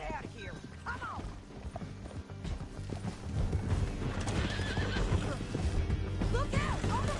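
Horses in Red Dead Redemption 2 gallop with a steady clip-clop of hooves and let out several high neighs, joined by game action noise and characters talking over the commotion.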